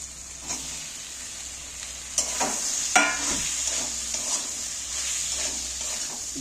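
Homemade flour pasta is added to a pan and stirred, giving a continuous close sizzle with a few sharp scraping and clattering bursts from the spoon, heard alone without talk.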